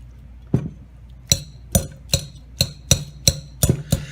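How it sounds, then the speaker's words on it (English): A whisk mashing boiled eggs in a bowl for egg salad, striking in a run of about nine sharp, evenly spaced clinks that quicken slightly toward the end, close and clear with no talk. "What you're going to do is you're going to mash these up a little bit"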